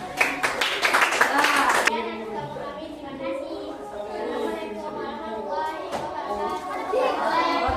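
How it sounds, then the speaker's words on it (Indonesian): Classroom of students clapping for a student group, a short burst of loud, sharp claps at the start, then children and a teacher talking with a few scattered claps later. "tepuk tangan untuk kelompok 5"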